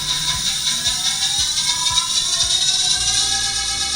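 A 48/60V 1000W 17-inch electric hub motor on a converted scooter accelerates in second speed, giving a steady high whine with rising tonal lines and a rapid ratcheting clicking underneath, continuous and close.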